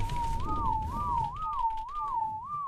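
Game whistle command to a herd of tamed dinosaurs in a survival game, including a tamed Carcharodontosaurus: a repeated rising-and-falling whistle tune, four or five looping phrases, clear and steady over a low rumbling game background.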